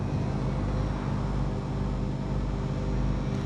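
Spacecraft engines in The Invincible producing vertical thrust give a steady, loud, low rumbling roar with a dense broadband hiss that holds evenly throughout without any talk.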